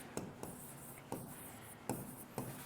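Writing on a board during a maths lesson on area and perimeter, a few soft scratchy strokes spaced about half a second apart against quiet room tone.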